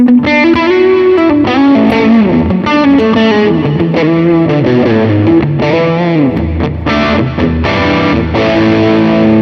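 Distorted electric guitar through a Vox AC30 amp plugin on the bridge pickup plays loud, sustained chords and riffs with a thick overdriven tone, continuous and alone with no talk.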